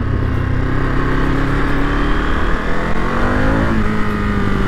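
A 2022 Ducati Monster motorcycle accelerating hard, its engine note loud and close, climbing steadily in pitch through the gears under constant wind rush, with no talking.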